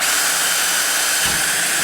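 A power drill bores holes while a Works Connection Pro Launch start device is installed, giving a steady, loud, high-pitched whine that drops briefly in tone near the end.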